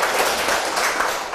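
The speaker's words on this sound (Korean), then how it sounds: "주님께 감사의 박수 드리면서 시작하도록 하겠습니다" A Catholic lecture audience applauds in thanks to the Lord after an opening prayer, a brief, dense, continuous patter of many hands clapping, moderately loud and without voices.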